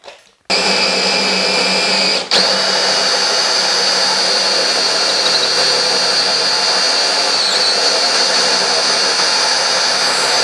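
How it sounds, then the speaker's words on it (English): Power drill boring through wood with a hole saw while building an outdoor planter box, a steady loud whine running continuously for about ten seconds with one brief dip early on, no talking. "now I'm going to get to drilling"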